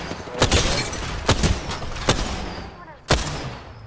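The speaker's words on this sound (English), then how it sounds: "Listen up, I'm getting shot at." Gunfire in the video game Apex Legends comes as several loud, sharp bursts at uneven intervals, close and punchy over a busy game background.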